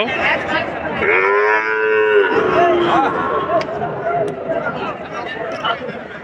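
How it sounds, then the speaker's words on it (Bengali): Sahiwal cattle at a Bangladeshi livestock market give a loud, drawn-out moo lasting about a second, rising out of busy crowd chatter and talk that continues throughout. "দেখুন দর্শক গরু দেখুন আজকে যেসব গরু উঠছে সব কিন্তু খামার করার জন্য গরু"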